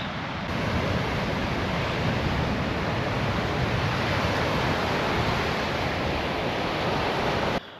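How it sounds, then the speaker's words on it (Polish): Baltic Sea waves washing onto a sandy beach, a loud, continuous broadband roar of surf with some wind across the microphone, with no voices. "Posłuchacie szumu fal, który wygrywa Morze Bałtyckie."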